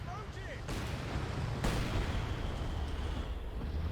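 Mortar and artillery fire booms in a Company of Heroes 2 match, with heavy explosions and rumbling blasts that stay dense and continuous while a commentator's voice runs beneath.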